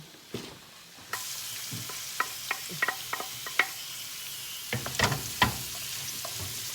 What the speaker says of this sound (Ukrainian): Ми нарізали перець і зараз його кидаємо до нашої пательні